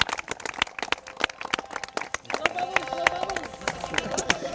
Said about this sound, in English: Would you give them a huge round of applause as husband and wife